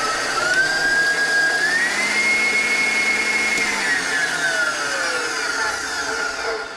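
A stand mixer's whisk attachment spins on high to fling off royal icing, a loud continuous motor whine that rises in pitch, holds, then eases off, heard alone.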